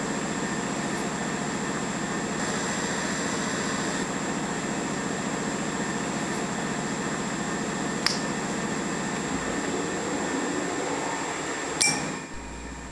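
A milling machine spindle turns a 1-inch end mill set for cutting aluminum at 800 RPM, giving a steady, even hum with a high whine that runs throughout. Two brief sharp ticks come near the end, and no one speaks.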